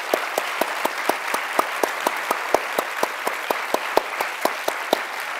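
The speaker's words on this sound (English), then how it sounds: "let's give them a big round of applause" A seated audience at a design business conference applauds panelists with steady, moderately loud clapping, individual sharp claps standing out over a soft wash of hands.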